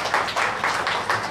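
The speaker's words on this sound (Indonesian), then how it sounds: "Tepukan untuk dia." Brief applause and clapping from the audience at a political rally for candidate Tan Chee Kiong, a short burst of many hands lasting about a second, moderately loud.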